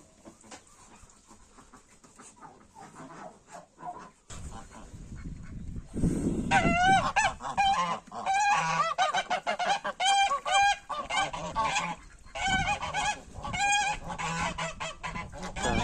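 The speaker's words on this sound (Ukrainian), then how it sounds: "Тут у нас гуси." Several geese, including a crested gander and curly-feathered geese, honk loudly and repeatedly, close by, with overlapping calls in irregular bursts and a little background noise.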